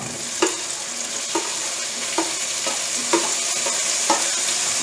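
Tomatoes, green chillies and curry leaves sauté in a pan for fish gravy, a steady close sizzle broken by about six evenly spaced scrapes of a stirring spoon, with no voices.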